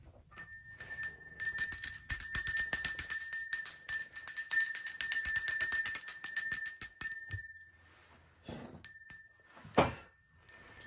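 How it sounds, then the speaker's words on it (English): A bell is rung to cleanse the space before a reading: a rapid run of bright, sustained metallic ringing, then a pause and a few separate strikes that decay, close and with no talking. "let's go ahead and ring this bell."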